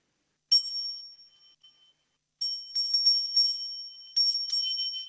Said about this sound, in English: Where's the failure bell?